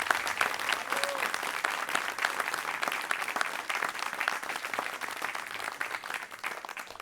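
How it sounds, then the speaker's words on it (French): Sustained audience applause at a charity cheque presentation ceremony, steady crowd clapping that continues evenly for seven seconds and eases slightly at the end. "Encore un applaudissement, c'est grâce à eux qui merci beaucoup."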